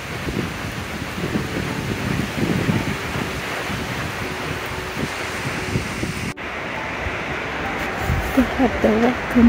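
Strong wind roars steadily outdoors at Miette Campground in Canada before rain, with a broad, blustery rush, and a faint voice briefly murmurs near the end.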